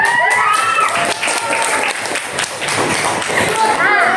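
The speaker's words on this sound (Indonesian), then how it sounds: "Oke, tepuk tangan" A class of schoolchildren claps together after a student's reflection in an Indonesian classroom lesson. Sustained, fairly loud clapping is mixed with children's voices and some tonal chatter.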